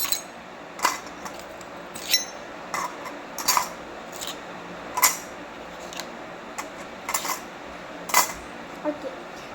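Small steel spoons and miniature utensils clink and tap as they are handled and set down, a scattered series of sharp light metallic clicks, close and fairly loud, with soft handling noise between.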